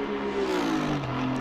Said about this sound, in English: I love this engine sound, that roar,